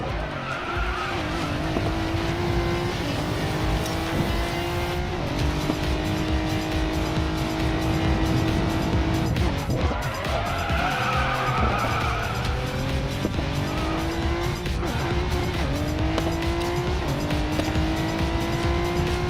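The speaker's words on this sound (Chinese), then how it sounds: "甩尾角度太大时，立刻反打方向盘调整。" A Bugatti in a racing video game drifts with long, loud tire squeals over a constant engine roar, the screeching rising and falling in pitch through several slides.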